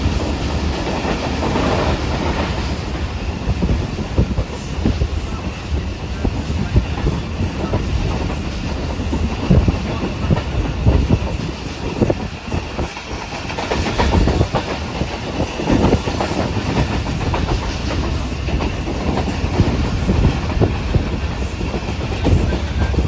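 Shalimar Express train rolling along the rails between Karachi and Nawab Shah, a loud continuous rumble with rhythmic clickety-clack of the wheels, heard from on board.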